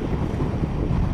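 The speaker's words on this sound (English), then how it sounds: "it's windy enough now" Strong wind buffets the microphone on a hilltop at Ludlow Castle in a continuous low, rumbling roar for the whole short moment.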